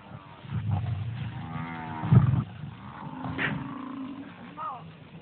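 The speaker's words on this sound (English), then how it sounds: "The rest of the pride immediately home in on the distress calls of the dying calf." A wounded calf bawls in distress while lions attack it in a Kenyan national park, the moaning calls loud and repeated across the scene, with a deeper roar-like bellow mixed in and a narrating voice running over it.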